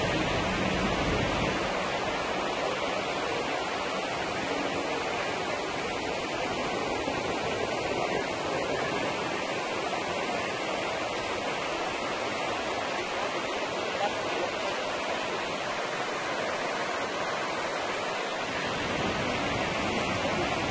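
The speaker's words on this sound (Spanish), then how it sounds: "La cascada de Tamul, Huasteca Potosina, las maravillas de la República Mexicana." Tamul waterfall in the Huasteca Potosina, Mexico, a constant loud roar of falling water, broad and unbroken from start to finish.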